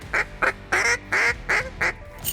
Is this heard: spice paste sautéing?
no